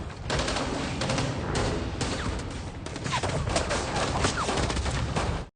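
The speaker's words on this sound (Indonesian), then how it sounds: "Terjadi baku tembak antara Yaksa melawan konsulat Jepang yang sangat sengit dan juga dramatis" A film gunfight at a Japanese consulate: a fierce exchange of automatic gunfire, loud dense volleys of rapid shots that keep going with brief gaps, over no speech.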